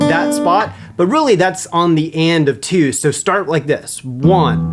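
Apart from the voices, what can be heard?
None of the usual background noises is heard.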